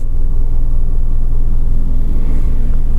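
An automatic transmission car sits close by with a loud, steady low engine rumble that holds evenly for a few seconds as it begins to move off, with no talking.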